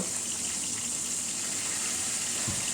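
Tengra fish dropped into hot oil in a wok with a little salt give a steady, loud, broadband sizzle throughout, with a soft thump near the end and no talking.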